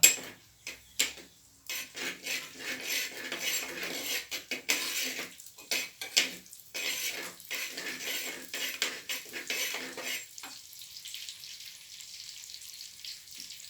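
Small onions fry in oil in an iron pan, a close crackling sizzle broken by sharp clinks and scrapes of a utensil, easing into a steadier thin hiss toward the end.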